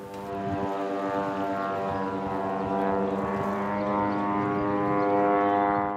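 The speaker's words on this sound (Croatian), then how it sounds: "Zvuk izraelskog drona u zraku." An Israeli military drone flies overhead above the ruins of Gaza, giving a steady, droning engine hum with layered tonal harmonics that holds constant and loud throughout, slowly swelling slightly toward the end.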